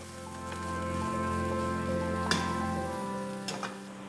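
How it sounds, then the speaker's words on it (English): Green onion, garlic, ginger and dried chili peppers sauté in avocado oil, a soft, steady crackling sizzle with a few sharper pops near the middle and end, fairly quiet and with no talking. "Green onion, garlic, and ginger. Dried chili peppers. Saute for about 30 seconds."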